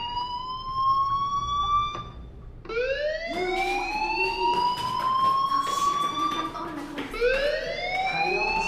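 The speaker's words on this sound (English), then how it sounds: "do you hear that fire alarm? That means you should be outside." A fire alarm in Life Is Strange whoops in rising electronic tones, repeating several times over a quiet background with no talking.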